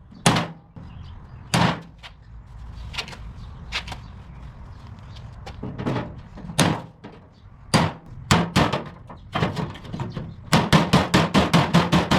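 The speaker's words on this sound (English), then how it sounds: "we're gonna grind this down and then beat it into submission" Hammer striking dented metal on a car door, a series of sharp, loud clanging blows at irregular intervals, ending in a rapid run of quick repeated strikes, with no talk.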